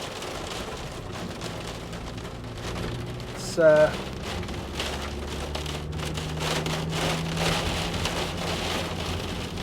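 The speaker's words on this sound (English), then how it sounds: "Hailstorm." A hailstorm outside, with dense pattering and drumming of hail on surfaces, steady and continuous throughout, with a low hum underneath and a brief voice partway through.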